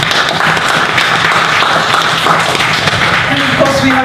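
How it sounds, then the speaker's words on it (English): A meetup audience in Brisbane gives a round of applause in a room, a loud, steady spread of clapping. Some voices murmur underneath, and a few tonal sounds appear near the end. "Big round of applause, please."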